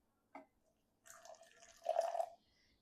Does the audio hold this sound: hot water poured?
yes